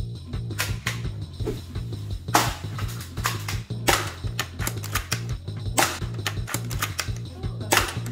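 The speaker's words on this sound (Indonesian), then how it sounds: "Kita masukkan BB-nya ke dalam magazine, masukkan magazine, kokang, tembak" Airsoft Kar98K bolt-action rifle loaded with 6 mm BBs, cocked and fired at a wooden target: a run of sharp clicks and snaps over a steady low mechanical hum, with several louder crisp shots spaced through the sequence.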